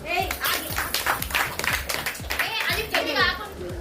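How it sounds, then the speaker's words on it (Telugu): At a friendship day gathering of old school friends, a group claps in quick, uneven bursts while voices, including children's, chatter over the applause. "క్లాప్స్."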